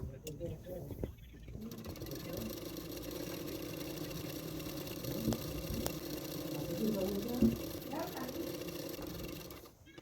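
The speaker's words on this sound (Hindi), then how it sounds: "और अस्तर का फैब्रिक की चारों ओर में सिलाई कर लूँगी, चारों ओर।" Sewing machine stitching around the lining fabric of a deep-neck prince-cut blouse, a steady mid-pitched mechanical whirr running continuously at moderate level with light room noise.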